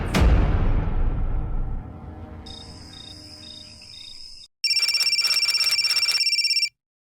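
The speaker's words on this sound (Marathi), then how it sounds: "एवढ्या रात्री फोन का केला अंकुश?" A telephone rings at night with bright electronic tones, first a steady warbling ring and then a louder pulsing burst of rapid rings, heard after a fading low rumble.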